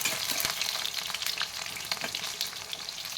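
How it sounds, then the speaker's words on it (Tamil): Eggplant pieces frying in oil until browned for a Tamil brinjal curry, a steady close, crackling sizzle with sharp pops and clicks scattered throughout and no voices. "நல்லா ப்ரௌனாக ஃப்ரை ஃப்ரை பண்ணி எடுத்துக்கலாம் எண்ணெயிலேயே கத்திரிக்காவை"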